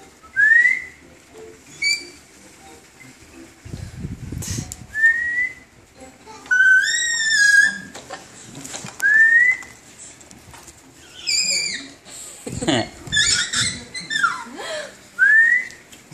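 A child whistles short rising and falling notes in scattered bursts at close range, with rustling, thumps and some bird-like chirps between the phrases.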